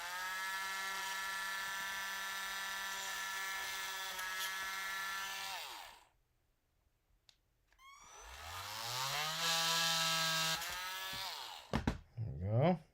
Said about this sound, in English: be careful, this can grab your drill bit and break it